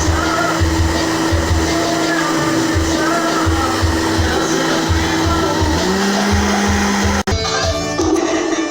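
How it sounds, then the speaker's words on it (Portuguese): A kitchen blender liquidizing a rib broth, a loud, steady motor whine with a rhythmic pulsing churn throughout, briefly cut and then resuming near the end. "É só passar no liquidificador,"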